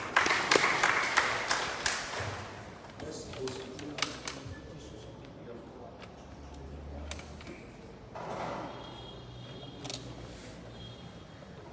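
Scattered applause at a political press conference in a hall, loudest at first and then thinning into sparse claps, with camera shutter clicks, taps and murmuring throughout.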